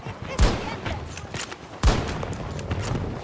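Two sharp gunshot bursts in Battlefield 2042, about a second and a half apart, over a busy wash of battle noise and background chatter.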